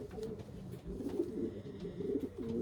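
Soft, low cooing of a dark checker racing pigeon repeats in a rolling rhythm, close by but quiet, with faint background rustling.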